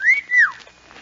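A person gives a two-part wolf whistle, a rising note followed by a longer rising-then-falling swoop, loud and close, then trailing off into quiet.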